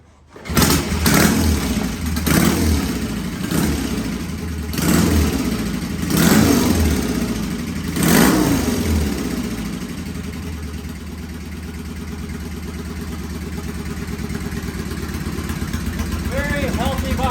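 A vintage British motorcycle with a magneto engine is kick-started and fires up, several sharp revving bursts settling into a steady close idle.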